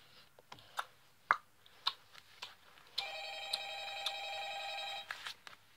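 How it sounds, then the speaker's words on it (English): A telephone rings inside the Five Nights at Freddy's game, a sustained electronic ring lasting about two seconds after a run of sharp clicks and taps, with no talking over it. "phone's ringing."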